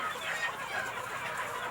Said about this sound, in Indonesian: ayam.